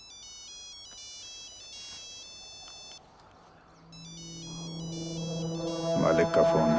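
A mobile phone ringtone plays a repeating electronic melody of beeping tones in an Indian action drama, pausing briefly before resuming, with a low background murmur and louder sounds building near the end.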